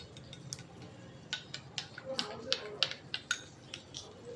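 Eggs beaten with salt and chili powder for a butter cheese omelette: a close, quick run of light fork-on-bowl clinks and taps that grows busier, with no talking.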